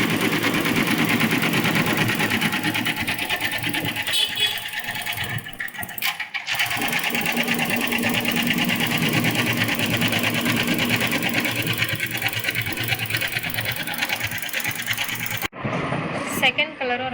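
A computer embroidery machine stitching a double-sleeve blouse design runs as a continuous rapid mechanical chatter with a steady whir, close and loud, with a voice talking over it and a short stop near the end.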